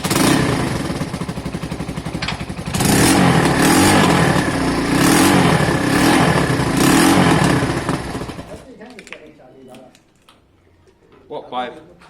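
A Keeway motorcycle engine runs loud and close after a carburetor clean, with a few rises in revs, then cuts out around nine seconds into near silence broken by faint handling clatter.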